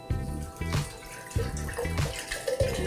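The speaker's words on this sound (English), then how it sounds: "Now I'm gonna pour water." Water is poured from a large bottle into another bottle, giving repeated glugging pulses and a splashing stream that rises in pitch as the vessel fills.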